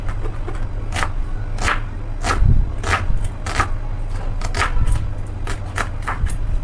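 Quick knife chops of garlic and onion on a cutting board, a steady run of sharp taps at an irregular pace, close up with no talking.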